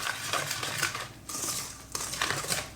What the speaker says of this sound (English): now we're going to be adding our dry ingredients into our wet ingredients and just give this a mix